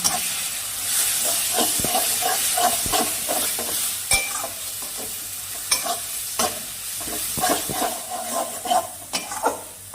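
Chili powder, cumin powder and other spices for pea ghugni fried and stirred in a pan: a crackling sizzle with frequent scraping strokes and sharp ladle taps, close and fairly loud, with no voices.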